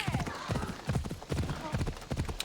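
A horse's hooves clip-clop at a steady trotting rhythm in Assassin's Creed Odyssey, close and clear with game ambience, and a voice speaking over the hoofbeats.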